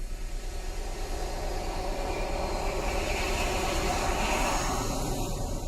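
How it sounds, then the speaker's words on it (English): A jet engine roars in a cinema advert, a steady broadband rumble and whoosh that holds at an even, loud level throughout with no voices. "to the thunder of a jet engine."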